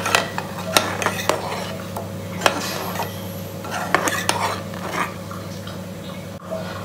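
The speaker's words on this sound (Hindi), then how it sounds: "दो चम्मच और इसे मिक्स कर लेते हैं।" Spoon clinking against a pot while stirring a tea mixture, with repeated light metallic taps at an uneven rhythm over a steady low hum, close and moderately loud.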